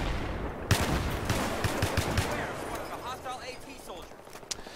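SKS rifle shots with a flash suppressor crack in a rapid series in Battlefield 3 gameplay, fairly faint under someone talking over the action.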